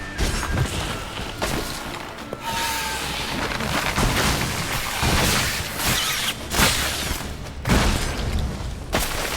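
Explosion and battle noise in the video game The Witcher 3: Blood and Wine, a dense, loud clamor of bursts, crashes and thumps with several sharp impacts scattered through.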